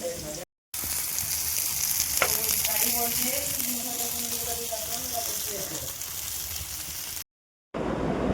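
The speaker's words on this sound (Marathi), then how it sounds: "तर आमचं कौल फ्रायची प्रोसेस चालू झाली आहे." Kaul chicken fries in a village kitchen in Konkan, a dense, steady sizzle with a voice murmuring faintly underneath and two short silent breaks.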